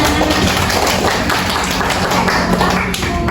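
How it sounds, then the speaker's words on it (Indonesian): Classroom applause for a student during a micro-teaching session: dense, steady clapping from a group of people, filling the whole moment at a constant level without pauses. "Boleh kita kasih aplaus untuk Vivian"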